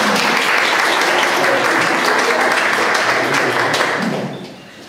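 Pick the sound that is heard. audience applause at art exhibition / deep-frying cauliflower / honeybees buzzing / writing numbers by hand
audience applause at art exhibition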